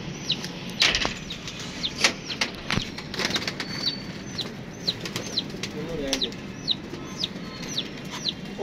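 Pigeons flap their wings in sharp bursts close by during wing-clipping for racing, with soft clucking calls and chirps scattered through a busy background.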